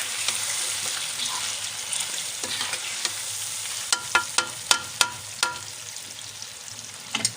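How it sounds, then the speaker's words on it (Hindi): Chicken and yogurt are stirred together in a karahi over the heat, giving a steady close sizzle with a spoon scraping and clacking against the pan in sharp, uneven clicks through the second half. "दही को चिकन में शामिल करने के बाद हम इसे अच्छी तरह हिला लेंगे।"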